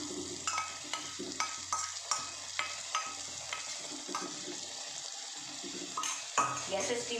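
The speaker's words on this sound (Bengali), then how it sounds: "এখন আমি দই আর ভাজা মশলা যেটা মিক্সড করে রেখেছিলাম এটা দিয়ে দিলাম" A yogurt and fried spice mix is stirred into potato and pointed gourd curry in a pan over low heat, with soft sizzling under repeated scraping strokes of a spoon against the pan.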